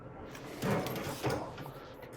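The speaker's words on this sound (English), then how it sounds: "So the cabinet door on the side of the machine hinges up." Side wire feed cabinet door on a compact XTE Automotive MIG welder hinging open, two soft clunks of the panel moving over a noisy room background, close and moderately loud.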